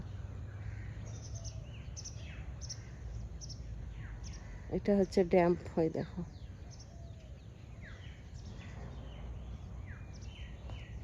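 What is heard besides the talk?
birds outdoors at sunrise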